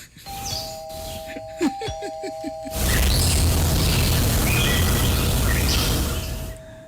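A doorbell chime sounds with a sustained tone, then a loud burst of broadband noise, like rushing wind or static, fills the rest.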